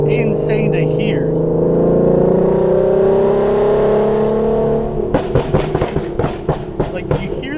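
S550 Mustang with an Auto Mafia Racing Tommy Gun tune, engine droning loudly close up as it revs, then a rapid series of sharp exhaust pops and crackles; a voice talks briefly near the start.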